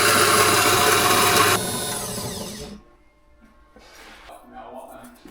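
A grinder whirs loudly and steadily, then winds down and stops, leaving a quieter room where faint voices and small handling noises follow.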